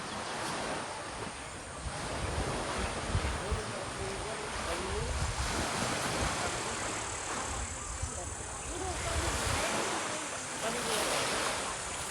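Waves crash steadily on a clear-water beach in Gloria, Oriental Mindoro, making a loud, continuous surf wash with wind buffeting the microphone and gentle swells rising and falling.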